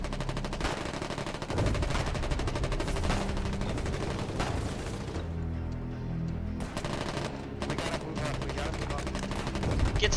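Gunfire in the Foxhole war game: rapid machine-gun bursts and single rifle shots crack continuously, loud and close, with a brief lull midway before shooting resumes, while a voice talks faintly underneath.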